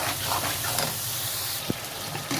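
Grated tomatoes with salt and turmeric fry and get stirred in a pan, making a soft, even sizzle and hiss close by, broken by a single sharp utensil knock near the end.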